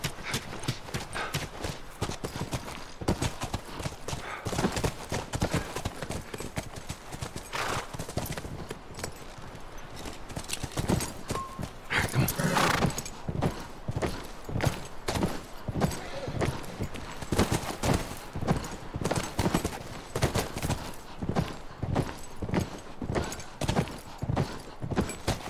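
Horses' hooves clip-clop steadily in a rapid, continuous rhythm, close by, with no talking over them, in the video game The Last of Us.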